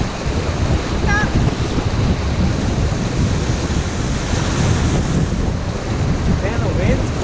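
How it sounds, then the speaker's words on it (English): Strong wind buffets the microphone on a boat during a racecourse sailing training run, a constant loud rushing roar mixed with water and surf noise, with faint voices underneath. "The wind suddenly came up."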